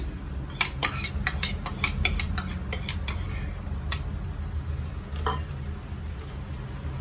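Metal utensils clink and tap against a bowl as a raw mango mixture is scooped and transferred, with a quick cluster of light, bright clicks and scrapes over a low background hum.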